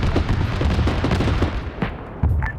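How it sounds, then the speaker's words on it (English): Heavy gunfire and artillery in a military video game, with dense overlapping shots and booms rolling continuously, then a sharp loud blast near the end. "just heavy fire all around"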